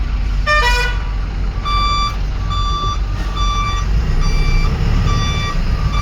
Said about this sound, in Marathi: ही पण गाडी मागे येते बघा